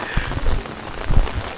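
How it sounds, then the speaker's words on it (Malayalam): Heavy rain pours down in the lakeside village of Hallstatt, Austria, a dense close spatter of drops on surfaces with no voices. "ഇവിടെ എന്തോ പെരുമഴ."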